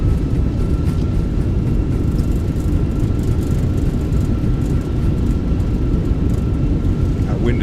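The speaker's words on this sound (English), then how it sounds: "reversers are out, decelerating" An Airbus A320 in a flight simulator game rolls out on landing with thrust reversers deployed, a loud steady engine roar and rumble with broad low-end noise throughout, no breaks.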